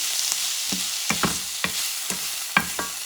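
Chicken gizzards sizzle steadily in a pan with cilantro as a utensil stirs them, sharp scraping strokes landing about every half second over a constant fry hiss.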